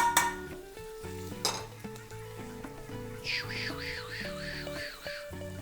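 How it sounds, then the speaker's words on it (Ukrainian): Butter melting and softly sizzling in a briefly cooled frying pan for scrambled eggs, a low steady crackle sitting under prominent background music with tonal notes throughout. "Заряджаємо вершкове масло"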